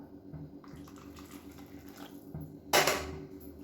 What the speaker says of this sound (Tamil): கொஞ்சம் தண்ணி சேர்த்துக்கலாம்.